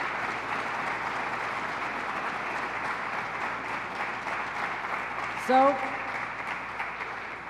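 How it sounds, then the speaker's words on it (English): An audience at a governor's public safety event applauds in a steady, moderate wash of clapping, with a brief spoken word partway through. "I want to applaud you."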